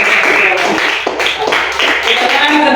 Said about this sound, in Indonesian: tepuk tangan buat Agri